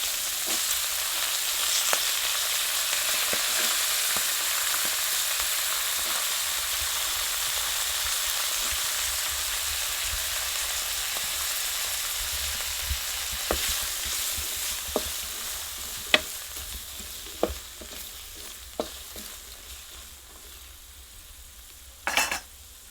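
Cauliflower frying in a pan for a pulao, a steady close hiss of sizzling oil that runs throughout, with occasional sharp clicks and scrapes of a utensil against the pan near the end, no voices.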